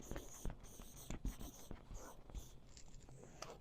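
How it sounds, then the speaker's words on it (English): A pen writes a word in large letters on paper, giving quick scratchy strokes in short bursts with pauses, close and quiet. "so it's kind of small, but I'll write it big."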